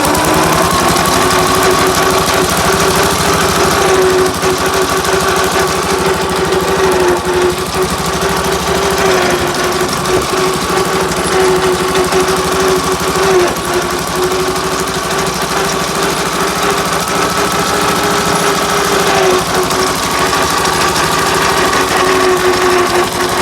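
A Ransomes MG40 crawler tractor engine runs at a steady, even idle, a close, continuous mechanical drone with a low rumble and a faint knock, alone with no talk.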